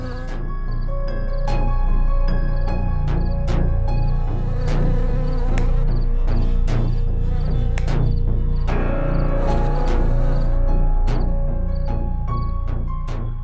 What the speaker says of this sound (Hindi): सुबह तक सारा खून पी जाएंगे ये मच्छर।